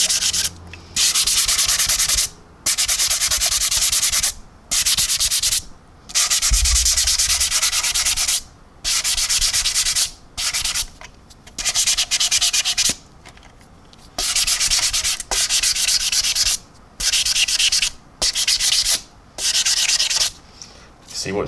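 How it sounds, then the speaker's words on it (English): Sanding sponge rubbing paint off a 1/32 Trumpeter AV-8B Harrier plastic model kit during weathering, heard as close, loud, steady scratchy strokes in repeated bursts separated by short pauses, with no talking. "what I'm going to do is take my sanding sponge, just sand"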